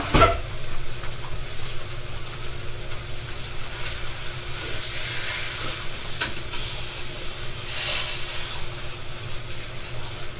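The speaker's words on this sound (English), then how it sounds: "And my pork chops are starting to sizzle" Pork chops sizzle steadily in a frying pan during a Southern dinner cook, alongside fried potatoes, with cornbread in the oven, giving a continuous close crackling hiss with small pops and no talking.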